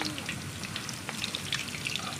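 Cá linh fish coated in batter crackle as they fry in a pan of hot oil, a Mekong Delta flood-season dish. A dense, steady sizzle with small pops runs throughout at moderate level.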